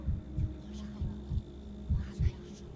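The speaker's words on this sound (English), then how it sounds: "Heartbeat seems fine." A heartbeat from the video game Pathologic 3 thumps in soft, low double beats, three pairs spaced evenly over a faint steady hum.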